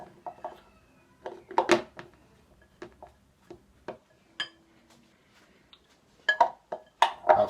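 Crushed sweet potatoes being stirred together with scallion, giving soft scattered clinks and scrapes of a utensil against a bowl, with quiet gaps and a few sharper knocks toward the end.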